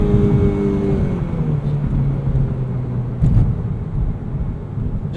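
A 2008 Honda Civic Si with 214,000 miles and a front differential pulls hard on a snowy road, its engine a loud, steady low rumble heard from inside the cabin with no talking.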